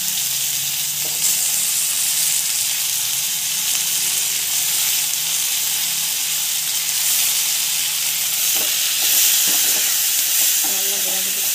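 Tomatoes sautéing in an oiled pan, a steady close sizzle and hiss with occasional stirring scrapes, no talking.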